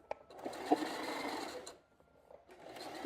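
A domestic sewing machine stitches elastic into a pair of trousers, running in a steady whirring burst for about a second and a half, pausing, then starting again, close up with no talking.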